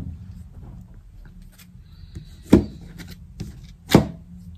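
A deck of tarot cards being cut and tapped down on a table, two sharp close knocks over quiet shuffling and rubbing.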